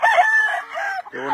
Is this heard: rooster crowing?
yes